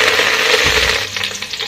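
Ground garlic paste and onion dropped into about 50 grams of hot oil in a pan for mutton thikkadi, making a loud, close, dense sizzle that briefly thumps and then settles into crackling.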